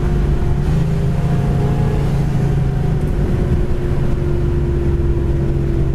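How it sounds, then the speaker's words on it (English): A 1969 Chevelle SS cruises at about 50 mph with a steady, loud engine drone and road roar, a constant low hum heard up close with no talking. "We're just gonna cruise down here, 50 mile an hour. Transmission kicks right in."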